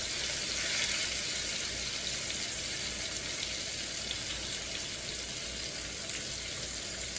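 Kingfish (neymeen) fries in a pan with exotic spices, giving a dense, constant, hissing sizzle that stays even and fairly close the whole time, with no talk.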